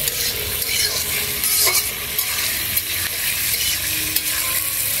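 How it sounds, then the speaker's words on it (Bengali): Mixed vegetables including potato and beetroot sizzle steadily in a pan as salt is added and they are stirred, with a constant frying hiss and occasional scraping strokes. "নুন দিয়ে একটু নাড়িয়ে নিচ্ছি।"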